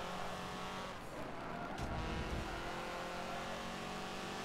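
Race cars roar around a track in Forza Motorsport 7 during a Le Mans endurance race, engines droning steadily with a surge and tire squeal as one car closes in, no talking.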